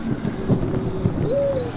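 Rain falls and thunder rumbles in a Minecraft jungle, a steady, fairly loud wash of rainfall with low rolling thunder under it. A faint tonal hoot rises near the end.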